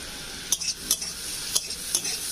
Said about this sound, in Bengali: গ্যাসটা আস্তে দিয়ে এটা আমি ভেজে নেবো।